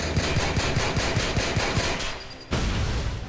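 Video game gunfire in Watch Dogs: Bad Blood, a rapid automatic burst of about ten evenly spaced shots, loud and close, then a brief pause and a final heavy crack.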